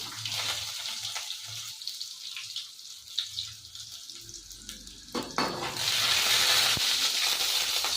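Garlic drops into hot oil for tempering a sprouted fenugreek palya, starting with soft crackles and scrapes, then breaking into a louder, continuous close sizzle toward the end.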